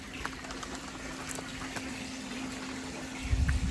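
Irrigation water runs steadily into a chickpea field in a village, a constant close rushing wash with faint bird calls and a heavier low gurgle surging near the end.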